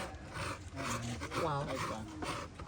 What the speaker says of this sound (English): So this is called mbuzi, and it's a coconut grater, a manual coconut grater.